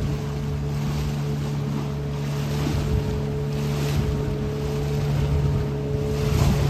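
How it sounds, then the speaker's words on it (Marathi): Boat on the open sea near Tsunami Island off Malvan, with a steady low engine drone, wind buffeting the microphone and washing waves throughout, continuous and fairly close. "आणि बोट फुल आता हलते"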